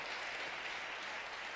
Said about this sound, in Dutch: Kunnen we hem en zijn vrouw, ook al zijn ze niet aanwezig, even een applaus geven.